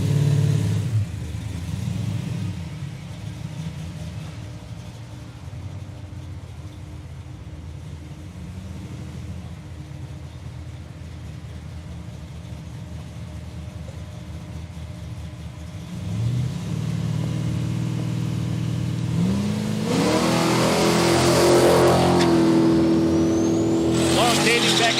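A boosted Holden VK drag car at Palmyra Raceway idles and rumbles at the line, then launches with a sharp rising engine roar near the end, while a commentator talks throughout.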